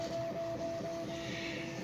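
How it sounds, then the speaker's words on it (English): A titer instrument keeps stirring a sample, giving a steady, even mechanical hum with a thin whine and a faint hiss that holds unchanged throughout. "the teeter machine has been continuously stirring the sample"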